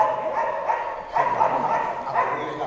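Dogs barking on a ranch or dairy farm, repeated barks and yips at moderate distance over steady outdoor noise, with faint voices in the background.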